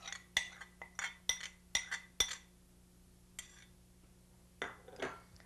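A spoon clinks against a bowl while stirring pizza sauce with oregano and minced garlic, a quick run of sharp taps followed by a pause and a couple of softer scrapes, fairly close.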